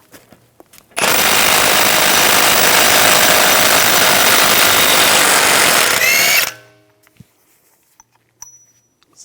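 Impact wrench with a 36mm 12-point socket spinning the front CV axle nut off a 2009-2013 BMW 328i xDrive, one loud continuous buzzing rattle lasting about five seconds that winds down sharply, then a few faint clinks.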